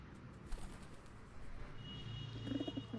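Malwai pigeons cooing from their perching stands, a few soft low coos rising near the end over steady background noise.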